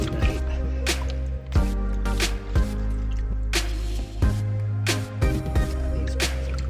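Water rinsing over small headphone parts from an Audioquest Nighthawk, with irregular drips, splashes and squishy wet handling, close and steady throughout, no talking.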